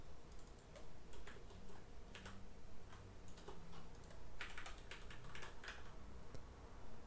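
Steady typing on a computer keyboard, a run of quick, light key clicks in loose bursts over several seconds, close and quiet, with no talking.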